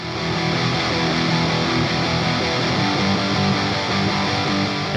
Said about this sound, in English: Then the second pair are these fuzz tracks,